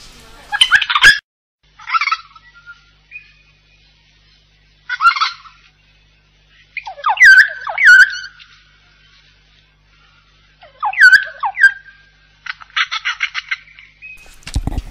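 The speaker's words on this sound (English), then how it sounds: "The sounds of birds are deafening because there's no people around." Loud, dense chorus of native forest birds in Fiordland, New Zealand: repeated bursts of calls, whistles and honking notes coming in waves, close and alone with no talk.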